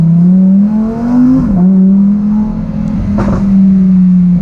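A Lamborghini Huracan Evo engine drones loudly and close, its pitch climbing and briefly dipping as it accelerates hard through gear shifts.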